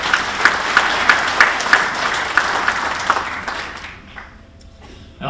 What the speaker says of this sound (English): Give the Hilliard Companies a round of applause.